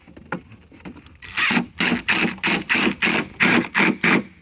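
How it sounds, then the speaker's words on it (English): Screws are driven into the plastic tailgate of a Honda Pioneer 1000 side-by-side during a tailgate stiffener install, giving about seven close, loud, evenly spaced driver bursts after a quieter start. "We'll just screw those into there"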